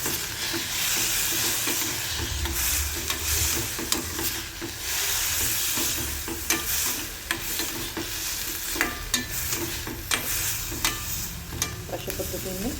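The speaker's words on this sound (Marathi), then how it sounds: "अशा पद्धतीने परतून घ्यायचं आहे।" A Maharashtrian-style pizza topping mixture, lightly salted, sautés in a pan with a continuous loud sizzle, broken by scraping stirs and occasional sharp crackles.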